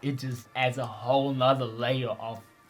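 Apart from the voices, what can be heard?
No everyday noise stands out behind the speech.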